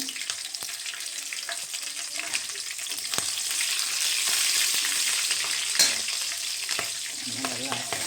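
Chopped capsicum frying in a pan for avrekal capsicum chitranna, a steady loud sizzle with soft stirring scrapes, holding continuously throughout without talk.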